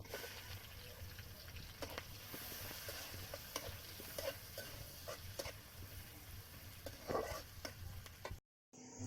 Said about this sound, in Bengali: পেঁয়াজটা তো ভালো করে ভেজে নিয়েছি।